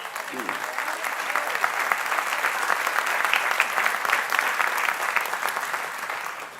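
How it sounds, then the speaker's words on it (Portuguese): Congregation applauding during a Sunday celebration service in a Portuguese-speaking church, a sustained, even roar of many hands clapping, with a faint voice briefly audible underneath. "Você pode aplaudir ao Senhor?"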